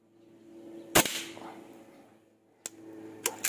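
An airgun firing at a target during a five-shot grouping test, with two or three sharp, separate cracks spaced well apart over a quiet background and a low steady hum between them.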